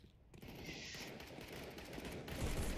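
Gunfire in the game CSGO, a dense rattling burst of shots running continuously over a few seconds, fairly loud and mixed with game ambience.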